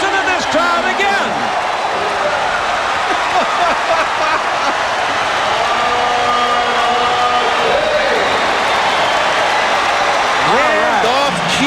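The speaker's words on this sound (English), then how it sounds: "Listen to this crowd again." Loud basketball arena crowd roaring and cheering continuously during a Sacramento Kings vs. Los Angeles Lakers NBA game, with whoops and an announcer's voice faintly beneath the din.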